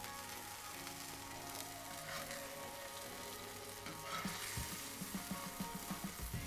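Burgers sizzle steadily in a pan while cooking for cheeseburgers, a dense continuous frying crackle heard up close, with a few sharper pops and clicks near the end.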